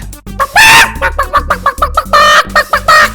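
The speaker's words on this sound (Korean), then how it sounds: "저거 뭐야 여기 왜 닭이 있지?" A chicken in a zombie survival video game gives a loud, close run of squawking clucks in rapid, uneven bursts, with no voices over it.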